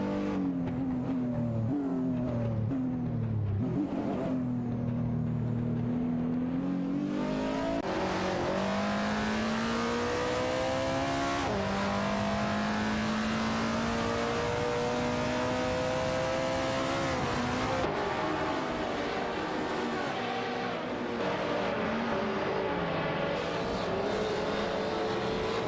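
Race cars, including an Aston Martin DB11 V12 and a Dodge Viper, roar through a video game race, their engines holding a loud, continuous tone that swells and shifts pitch as they accelerate and change gear, with no talking.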